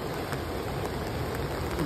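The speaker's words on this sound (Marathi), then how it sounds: "मे महिन्यामध्ये एवढा पाऊस आम्ही कधी बघितला नाही" Heavy May rain pours down beside the Ulhas River in a steady, dense hiss, loud and unbroken, with no voices.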